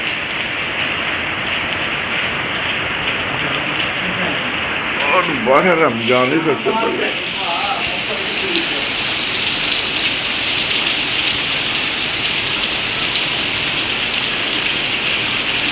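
Heavy torrential rain comes down in Lahore as a loud, unbroken roar of water on surfaces, with a person speaking briefly over it partway through.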